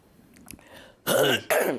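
A man clears his throat twice in two short rasping bursts, close and fairly loud, after a few faint softer sounds.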